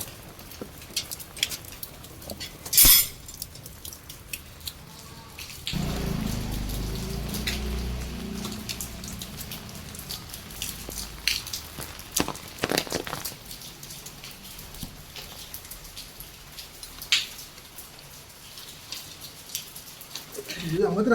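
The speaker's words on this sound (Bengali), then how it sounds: "বৃষ্টি হচ্ছে আজকে" Monsoon rain falling outside a house, a steady patter of drops on surfaces with a heavier stretch midway, broken by occasional knocks and clatter nearby.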